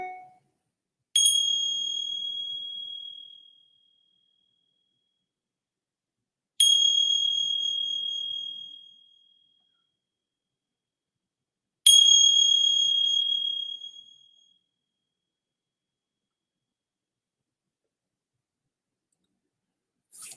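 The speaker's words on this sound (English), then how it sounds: "And then receiving the sounds of the bell." A meditation bell is struck three times at slow, even intervals, each bright metallic ring fading out over a couple of seconds into silence, with a fourth strike beginning at the very end.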